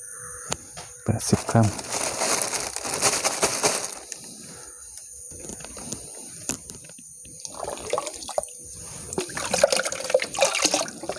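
Water and calcium nitrate fertilizer being stirred to dissolve, with sloshing, trickling liquid sounds in uneven bursts, close by. Someone talks over part of it.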